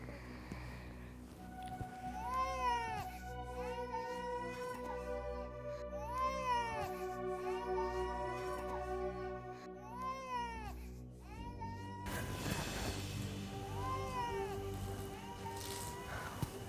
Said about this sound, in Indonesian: Kok kayak ada suara tangisan bayi ya?